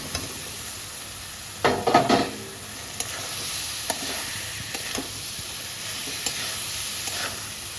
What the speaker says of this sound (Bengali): সবজির সাথে ভালো করে কষে নেবো